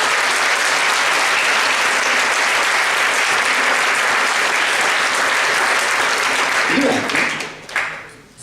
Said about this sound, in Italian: Esattamente, le fate un applauso